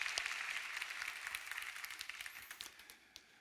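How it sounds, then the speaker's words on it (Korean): Church congregation applauding during a Sunday worship service, a dense, steady patter of many hands that slowly thins and fades over a few seconds, heard alone without talk. "우리 박수 한번 할까요?"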